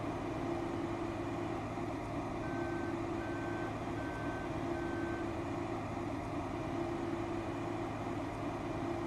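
A combine harvester in Farming Simulator 2015 rumbles with a steady engine drone while a reversing alarm beeps four times in an even rhythm partway through, clear and close.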